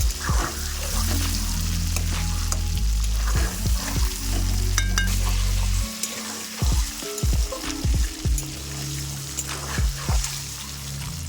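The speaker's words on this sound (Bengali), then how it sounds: "ডিমগুলো দিয়ে ভালো করে ভেজে নিব।" Eggs fry in hot oil in a pan, a loud, close sizzle and crackle running throughout, broken by repeated sharp spatula scrapes and knocks as they are turned.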